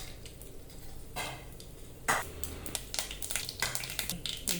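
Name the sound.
mustard seeds sizzling in hot oil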